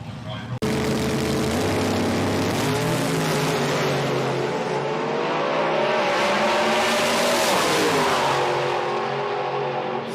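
An NHRA drag race car screams at full throttle, its loud engine roar rising and falling as the tires spin violently before it hits the fence, with an announcer talking over the noise throughout.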